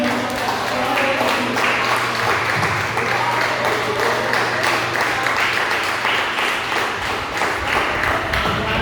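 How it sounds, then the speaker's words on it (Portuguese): Church congregation applauding during a worship service, a steady dense wash of clapping from many hands filling the space at close range, with voices blending in beneath it. "Você pode aplaudir o nome do Senhor."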